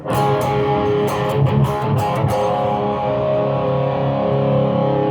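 Distorted electric guitar chords through a Boss ME-80 and Maxkie cab simulator pedal ring out, a few strummed hits at first, then a sustained chord decaying with a thick, saturated tone.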